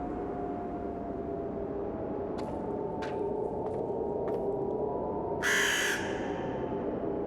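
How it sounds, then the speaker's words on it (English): A crow caws several times in a horror video game, sharp repeated calls spaced over a few seconds, with one louder, longer caw near the end over a steady low ambient drone. "Yeah, I hear the bird. I never can see the bird."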